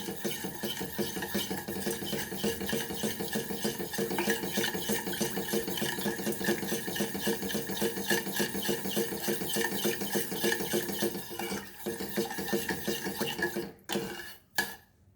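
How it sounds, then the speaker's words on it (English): Sugar melting with clarified butter in a pan for Goan shankarpali is stirred steadily with a utensil, a continuous close scraping and swishing that stops near the end with a couple of clinks. "So now we will give a boil and melt the sugar. Mix this all."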